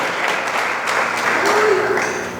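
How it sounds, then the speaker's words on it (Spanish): Church congregation applauding during a sermon, a steady wash of clapping that swells slightly midway, close and fairly loud, with a brief voice faintly underneath. "Gracias por las palmas"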